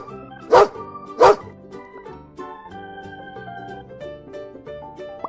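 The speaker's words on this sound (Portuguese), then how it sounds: "Esse aqui você conhece bem, é o cachorro." Two loud, sharp dog barks about a second apart over soft background music, followed by quieter melodic tones.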